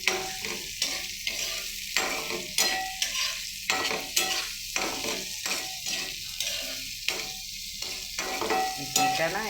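Tangra fish with thick-cut onion and potato sizzle in a pan, close and steady, while a spatula stirs in regular scraping strokes roughly every second over the frying hiss.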